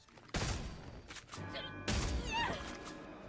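A new weapon firing in the video game Redfall lets out two sharp, loud blasts about 1.5 seconds apart, each trailing into ringing, whistling effects.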